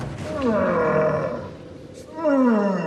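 A man imitates an adult stag's mating call at a stag-calling championship in Germany, giving two loud, drawn-out guttural roars with a short gap between them.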